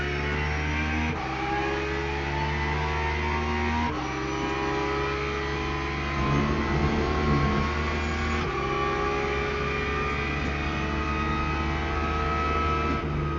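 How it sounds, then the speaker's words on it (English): Porsche 911 GT3 race car engine in the racing game Le Mans Ultimate at Interlagos, a steady loud engine drone with shifting tones and small surges, continuous throughout without talk. "Driving the Porsche 911"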